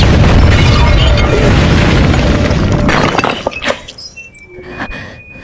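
A bomb explosion in the action film The Shepherd (2008), a loud sustained roar of blast and breaking glass that fades after about three seconds into scattered tinkling debris and clinks.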